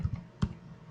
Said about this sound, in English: So I'm just going to type in the link